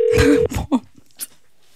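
A telephone call tone for an unanswered call, one steady tone about half a second long cut off abruptly, followed by brief faint blips and noise.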